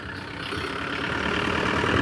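A car engine runs steadily, a close, rough droning rumble that grows slightly louder over the couple of seconds.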